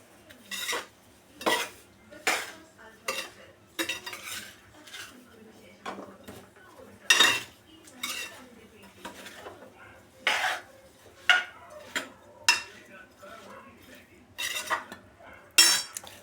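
A spoon clatters and scrapes against a pan while mango pickle with chilli is stirred, giving about fifteen distinct metallic strokes in a loose rhythm. A faint sizzle sits underneath.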